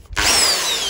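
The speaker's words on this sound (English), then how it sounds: "make sure your hammer drill is on hammer" An electric hammer drill set to hammer mode, used for drilling into a brick house wall, starts abruptly with a loud, close, whining buzz that holds steady for about a second.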